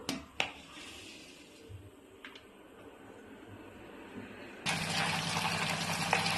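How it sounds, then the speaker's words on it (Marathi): Hot water trickles quietly into a vessel, then a steady louder pour takes over for the final couple of seconds. "मी थोडंसं गरम पाणी घेणार आहे या भांड्यामध्ये"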